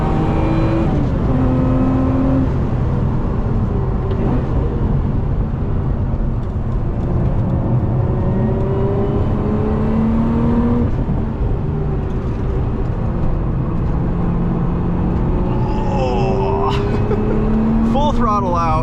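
A 2025 Lotus Emira V6 sports car on Cup 2 tyres pulls hard in third gear, its engine note climbing steadily and loud throughout, with a voice talking briefly over the cabin sound.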